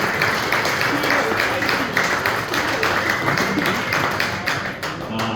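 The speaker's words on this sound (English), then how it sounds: "let's give him another round of applause" Audience applause at a rugby club's winter party Q&A, steady dense clapping from a crowd filling the room throughout, with some voices mixed in.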